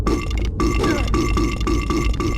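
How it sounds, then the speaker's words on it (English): A burping enemy in the Silent Hill 4 video game lets out a loud, continuous guttural belching drone with wet, rhythmic pulses over roughly two seconds, heard alone without speech. "Silent Hill 4 had ghosts and burping enemies."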